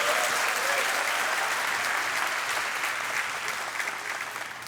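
Sustained applause from a church congregation during a worship service, a dense wash of clapping that stays loud and steady throughout, fading slightly toward the end.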